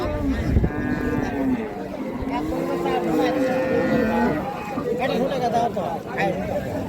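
Friesian cows and calves moo repeatedly at a busy cattle market in Bangladesh, their drawn-out lowing calls rising over constant crowd chatter and nearby conversation.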